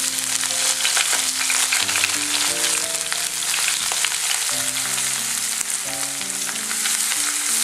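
Crushed onion, dried red chilli and curry leaves fry steadily in hot coconut oil for a Kochi-style clam meat fry, a continuous close sizzle under background music with no speech.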